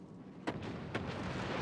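Two HE shells fired in a tank combat video game, each a short heavy boom about half a second apart over a steady low engine drone.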